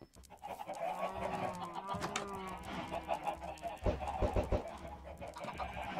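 Chickens in a video game cluck and squawk in short, repeated bursts, with a run of sharp clucks near the end over a steady background bed.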